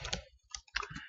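Bursts of computer keyboard typing while writing C code, with a few quick clusters of clicky keystrokes separated by short pauses, close and fairly faint.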